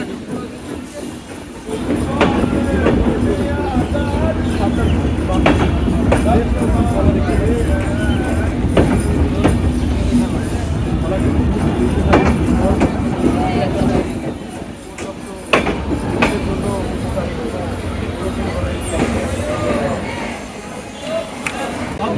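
The Sagardari Express rolls into Sabdarpur railway station with a continuous rhythmic clatter of wheels on rails, loud and close, under a background babble of voices.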